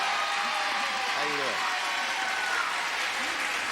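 Studio audience applauding a game show contestant, a steady, dense wash of clapping that fills the whole stretch at an even level, with a brief voice sounding over it.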